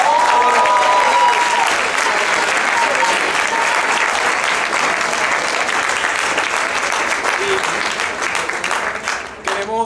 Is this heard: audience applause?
yes